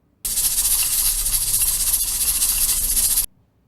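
A pressure cooker valve releases steam in one loud, steady hiss lasting about three seconds. It starts and stops abruptly, with nothing else heard around it.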